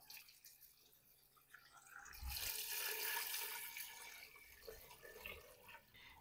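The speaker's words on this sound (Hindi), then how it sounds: "अब इसमें मैं पानी डाल दूंगा।" Water poured into a pressure cooker for beef paya, a soft splashing stream that swells in the middle of the clip and then settles, faint and close, with no talking.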